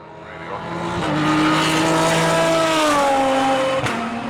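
Race car engine in the Project CARS racing game, a steady high-pitched drone with rising and falling harmonics as it revs through gears, loud and continuous with a short shift blip near the end.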